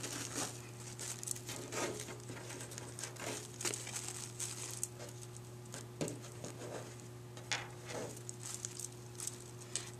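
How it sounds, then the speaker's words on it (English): Ribbon strips being cut and pinched together for a patriotic wreath, heard as soft crinkling and rustling with small snips and taps, faint and close, over a low steady hum. "we're just going to cut a couple of strips of ribbon. We're going to pinch them together in the center."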